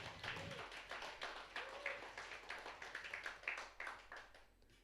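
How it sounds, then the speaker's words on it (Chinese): A church congregation at a Sunday service claps their hands together, a dense, steady patter of many palms lasting several seconds with small swells in loudness. "我们拍手来感谢神"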